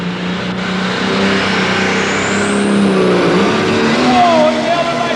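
A John Deere pulling tractor driven by Masterson at the 1995 NFMS tractor pull in Louisville, Kentucky, revs its engine to build RPMs, a loud rising mechanical roar under an announcer's excited commentary.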